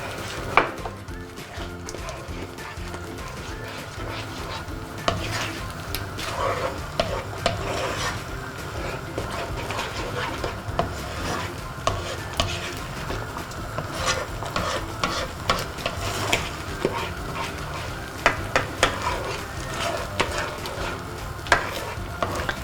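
Heavy cooking cream poured into a pan with red wine for mushroom soup, a continuous sizzle and bubbling with occasional clinks and stirring scrapes of a utensil against the pan, close and steady throughout.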